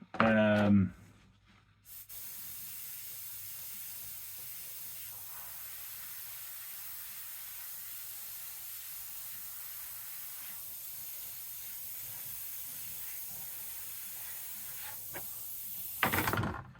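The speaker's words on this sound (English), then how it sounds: "you definitely notice it doesn't spray as nicely as the detail black does." A steady, even airbrush hiss of Fastrax Fast Finish airbrush paint runs continuously for over ten seconds, bracketed by brief clicks and handling noise at the start and end.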